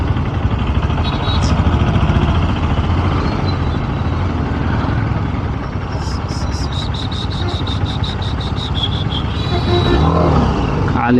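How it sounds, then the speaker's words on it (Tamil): Morning road traffic as heard from a moving motorcycle, with a steady engine drone and wind rush, passing vehicles and a burst of horn beeps partway through. "காலையில் எவ்வளோ டிராஃபிக்."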